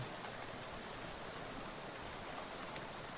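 Steady rain falls over Ocean City in the game Shadows Over Loathing, a dense, even hiss of drops on surfaces that runs quietly and alone throughout.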